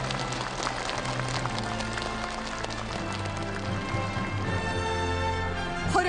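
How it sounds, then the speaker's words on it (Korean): At a Korean-Chinese literary award ceremony, a large audience applauds continuously and evenly for the whole stretch, a dense steady wash of clapping with music playing underneath. "여러분 큰 박수로 축하해 주십시오."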